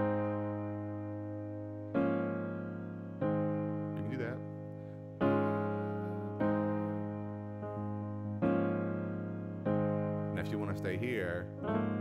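Piano playing the Old Church Basement chord progression: sustained chords struck roughly every second and a half, each ringing and decaying before the next, fairly quiet, with a few brief soft sounds between chords.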